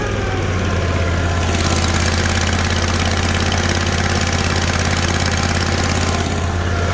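A Snapper Z Rider 61-inch commercial-grade zero-turn riding lawn mower idles outdoors, its engine giving a loud, steady, close drone with a constant low rumble throughout.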